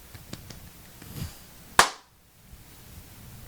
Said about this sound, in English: Somebody clap, please.